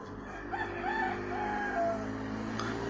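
A rooster in Panama crows faintly in the background, one drawn-out, wavering call under a steady low hum.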